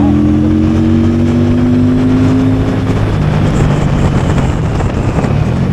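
An orange Victoria Simplee V70 Border Cruise Edition motorcycle engine revving while riding, loud and close, the pitch climbing steadily then dropping as the gear changes, with heavy wind rush over the microphone.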